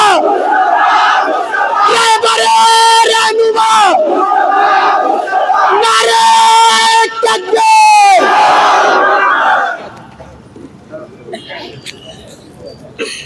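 A protest crowd roars slogans back in unison, loud and close, in several long surging bursts that break off near the end into quieter murmuring.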